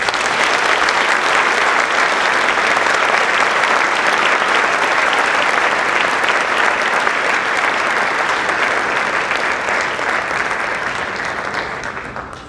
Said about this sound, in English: Please join me in thanking them all with a round of applause.